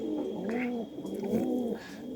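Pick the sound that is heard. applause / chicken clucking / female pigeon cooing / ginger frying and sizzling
female pigeon cooing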